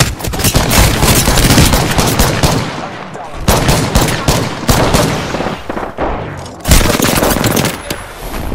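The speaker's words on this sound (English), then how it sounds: "I am taking fire, friends." Gunfire in the video game Apex Legends: loud, dense bursts of rapid automatic shots and fusillades, broken by short pauses, dominating throughout.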